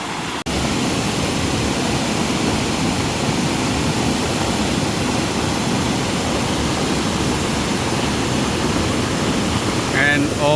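River water at Angkor flows over a riverbed of carved stone lingams and drops into waterfalls, making a constant, close, hissing roar with a faint voice buried in the noise.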